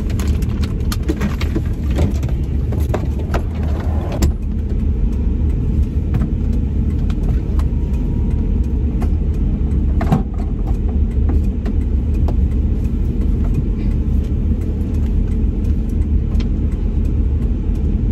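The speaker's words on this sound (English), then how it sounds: "I decided right then and there, I'm just going to drive all the way through New Mexico" Steady engine and tire rumble from a car driving a highway through New Mexico, heard continuously from inside at an even, loud level with no talking.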